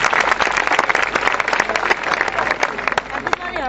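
Audience applause at a live concert, with dense, steady clapping that fills the whole stretch and is loud and close, with no voice on top.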